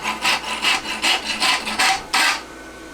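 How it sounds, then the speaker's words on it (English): A coarse rasp is drawn hot across a forged hind horseshoe in about nine steady, even rasping strokes that sound close and loud, with no talk. "when I'm hot rasping, what I look for, first thing I do is I like to go straight up and down"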